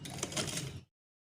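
A sewing machine stitches a folded pleat into fabric for a baby's designer frock, a steady close mechanical whirr running for under a second before stopping abruptly into silence.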